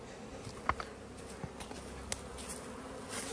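Honeybees drone steadily around an opened hive in a beeyard while colonies are split into new nucs, a close, continuous buzz broken by a few light knocks and clicks, with no talking.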